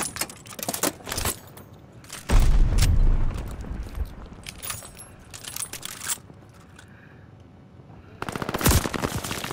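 Shooter video game gunfire in a search-and-destroy match: bursts of rapid shots and sharp cracks, with one loud sustained stretch of firing in the middle, along with clinking effects and rumbling.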